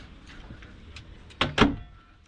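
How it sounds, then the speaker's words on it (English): A sliding door on a Moody DS41 sailing yacht is drawn along its track, with faint rattles followed by two sharp knocks as it thuds shut nearby. "And then we have the sliding door"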